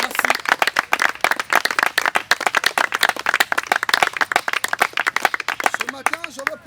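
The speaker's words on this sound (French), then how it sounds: "Acclamons très fort." A church congregation at a sermon clapping loudly and rapidly in dense, continuous applause close by, with voices mixed into the clapping.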